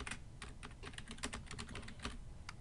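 Rapid clicking of computer keys as a keyboard shortcut is entered, a dense run of crisp, close keystrokes with uneven rhythm, heard alone without talk.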